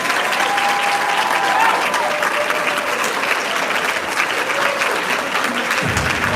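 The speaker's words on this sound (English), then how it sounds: "continue with your applause" Sustained applause from a large crowd, loud and steady throughout, with a faint voice over it near the start.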